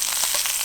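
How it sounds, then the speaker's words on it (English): A whiskey-marinated Jack Daniels steak frying in a hot pan, a loud, close, continuous hissing sizzle over a very short stretch. "let's go on and fry our two other whiskey steaks"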